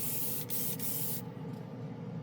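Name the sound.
spraying paint from a spray can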